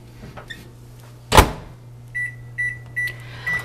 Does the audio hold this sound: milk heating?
yes